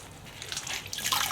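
Water rinses cleaner off a surface in a brief steady wash of splashing and trickling, close, with no talk.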